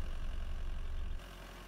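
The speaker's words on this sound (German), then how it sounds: "Motor an" A vehicle engine in the video game Farming Simulator 22 runs with a low, steady rumble that drops to a quieter idle partway through the short moment.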